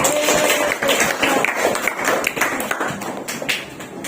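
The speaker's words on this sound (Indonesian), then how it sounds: "Tepuk tangan untuk kelompok 3" Classroom applause for a student group, scattered hand claps and taps close by with some murmuring voices underneath, steady for about four seconds.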